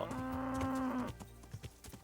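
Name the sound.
cows mooing in the video game Kingdom Come: Deliverance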